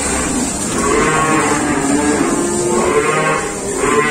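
Simmental cattle, bulls and cows, at a livestock market give off low lowing and moos amid a busy, steady background of animal noise and crowd murmur, fairly close and continuous.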